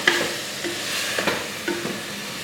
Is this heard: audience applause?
no